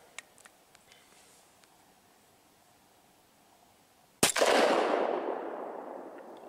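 A single sharp gunshot from a 10mm Glock 40 firing Sig full metal jacket rounds at a range cracks out loudly and alone after a quiet stretch, then rings and decays over the next two seconds.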